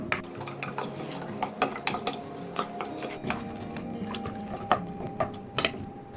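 A spoon stirs and scrapes through mutton in a metal pot as Kashmiri chilli powder and turmeric are worked in for spicy alsa. Soft wet mixing sounds come with irregular sharp clinks of metal on metal, close and fairly quiet, with no talk.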